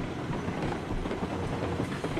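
A heavy freight train rolls downhill under its own weight in the game RailRoads Online, giving a steady, dense rumble with faint rhythmic wheel clatter throughout, close and continuous.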